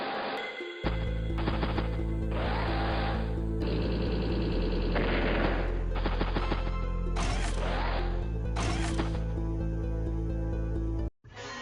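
Tank attack in the Advance Wars: Days of Ruin video game, a run of loud rapid game gunfire bursts and crunching impact blasts over a steady low electronic hum, ending abruptly.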